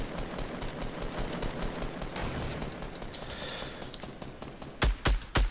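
Gunfire in Fortnite Battle Royale: rapid automatic bursts run continuously, then a few loud, heavy separate shots ring out near the end.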